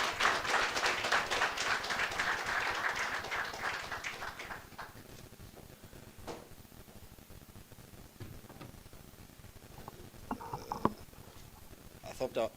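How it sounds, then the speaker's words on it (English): An audience claps together in a dense burst of applause that fades to scattered claps, with a murmur of voices underneath and a few claps near the end. "I would like everybody to clap your hands together"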